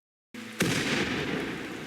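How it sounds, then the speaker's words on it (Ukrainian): A sudden booming explosion in the video game RimWorld erupts after a brief silence, then fades into a loud, lingering rumble that fills the rest of the moment. "Чули цей вибух?"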